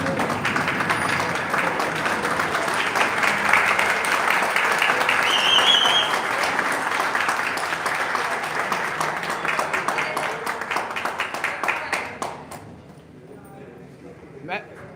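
Conference audience giving a long, full round of applause, dense and steady clapping that carries on for many seconds before fading out, with a voice speaking over it.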